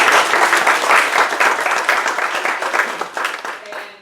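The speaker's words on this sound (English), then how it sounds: "can we just get a round of applause for that PowerPoint?" Loud, close audience applause at a meeting, dense clapping from many hands that stays strong and then gradually thins out and fades over a few seconds.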